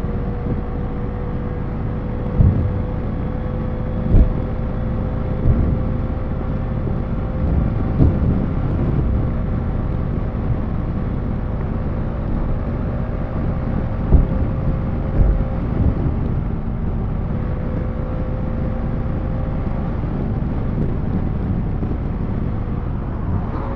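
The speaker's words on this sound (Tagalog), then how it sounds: "Pasok hangin." Steady wind roars through an open car window on an expressway, mixed with road and engine rumble, broken by a few soft thumps.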